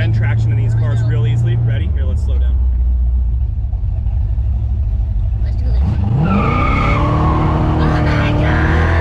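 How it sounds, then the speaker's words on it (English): 700HP 1971 Corvette 454 losing rear traction, its engine roaring and dropping in pitch before the rear tires break loose into a loud, rising squeal and skid, with talk over the start. "you'll lose rear end traction in these cars real easily"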